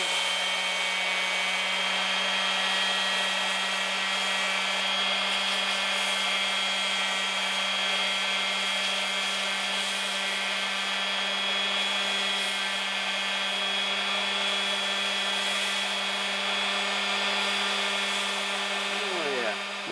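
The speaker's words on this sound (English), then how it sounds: "So right now I'm going to take this sander and run it along here." Power sander running steadily and loud on rough spearhead material, a constant high whine with a low hum underneath that holds throughout and winds down right at the end.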